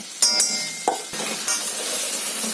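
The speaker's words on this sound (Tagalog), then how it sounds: "Haluin." Tofu stirred in a pan as it fries, with several sharp scraping and clinking strokes of a utensil against the pan over a continuous sizzle.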